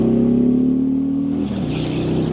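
Harley-Davidson Freewheeler 114 trike engine pulling hard, a loud, close, deep steady drone that shifts pitch as it accelerates, no speech.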